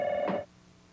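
A telephone bell rings once at a travel agency office, a single short electronic trill that cuts off abruptly and leaves faint room hum.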